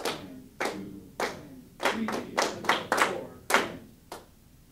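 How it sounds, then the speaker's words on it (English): Choir students in a music class clapping a rhythm together, about ten crisp, sharp claps in an uneven pattern, moderately loud with no talking over them. "So let's all just clap it"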